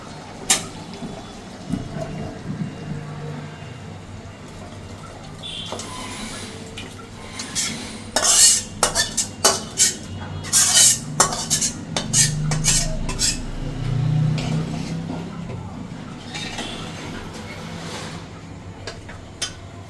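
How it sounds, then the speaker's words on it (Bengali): Metal utensils clink and scrape against a pan as leafy greens are stirred and fried, with a low frying hiss beneath irregular bursts of clattering, close and fairly loud. "এই পাশে শাকগুলা দিয়ে নিছি ভাজি করে নিব"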